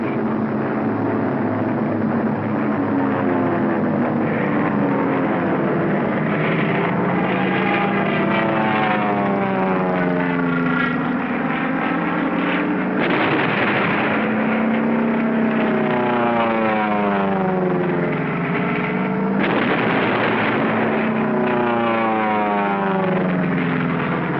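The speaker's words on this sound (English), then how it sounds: "The support air director contacts carrier planes circling the target." WWII carrier-based propeller planes circle a target over Iwo Jima, their engines droning loud and continuous with pitch swelling and falling as they pass, on old, band-limited film sound.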